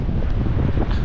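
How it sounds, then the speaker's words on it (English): Strong wind buffets the microphone on a seaside town street, a loud, continuous low rumble with gusty fluctuations and no speech. "I want to go to the promenade, but it's actually windy."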